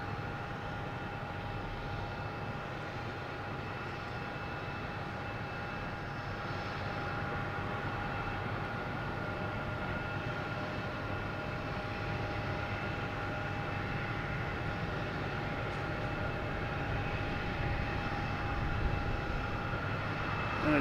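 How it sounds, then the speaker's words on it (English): A Delta Airbus A321neo airliner at Boston Logan Airport, its engines a steady, distant roar that holds evenly throughout and swells slightly near the end, with no talk. "And a Delta heading to Salt Lake City."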